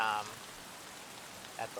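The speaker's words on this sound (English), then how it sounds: "The rain makes it hard." Rain falls in the video game Escape from Tarkov as a steady soft hiss of drops on surfaces, with a brief voice at the start and a faint clink near the end.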